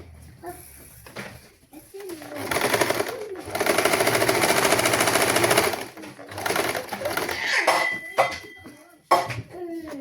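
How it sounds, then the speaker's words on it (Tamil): A sewing machine stitches a saree blouse, joining the back neck and shoulder seam, running in steady bursts of a few seconds each, loud and close, with short pauses and light handling noise between them. "நான் இனி இன்னொரு தையல் போட வேணும்."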